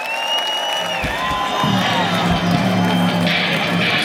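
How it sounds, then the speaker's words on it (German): Concert crowd at a live show in Alsfeld cheering and applauding for Felix, a steady loud roar of clapping and whoops with a voice over a sustained tone, filling the whole stretch. "Applaus für den Felix"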